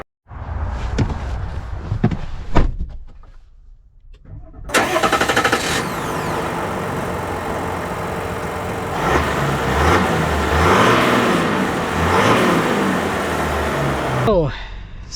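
A 2025 Chevy Silverado 1500 RST pickup with the Duramax diesel engine, starting with a few clicks and then running as a steady loud engine roar that rises under acceleration for about ten seconds before cutting off.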